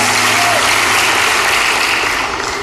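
A church congregation at a Christmas service applauding, a dense, loud wash of clapping filling the room and tapering off slightly toward the end, with a low hum beneath.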